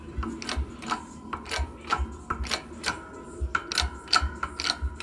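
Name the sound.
press pushing wheel studs out of a Firebird 1LE brake rotor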